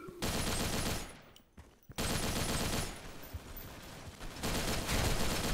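Dense bursts of MG4 machine gun fire in the Special Force 2 video game, loud and continuous, broken by a short gap near the two-second mark before the rapid fire resumes.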